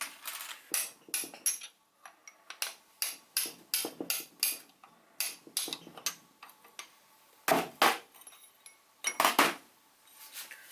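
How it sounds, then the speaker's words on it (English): Sharp metallic taps ring out in irregular bursts as a gudgeon pin is driven out of a Citroen GS 1.3 engine piston, close and clear with brief pauses between groups of strikes. "I can tap the gudgeon pin out and remove the piston."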